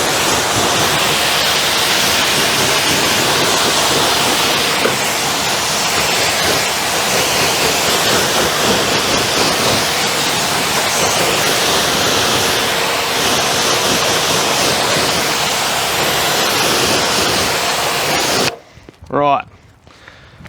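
A strong, steady water spray rinses a car engine bay during a quick detail, filling the clip with broad, loud hissing rush before cutting off near the end, where brief voices are heard.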